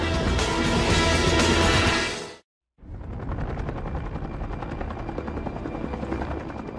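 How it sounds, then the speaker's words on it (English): A logging helicopter roars loudly and steadily nearby over forest, its rotor thudding, then cuts out briefly before the heavy droning resumes. "When thinning is needed in treacherous conditions, the helicopter is the weapon of choice."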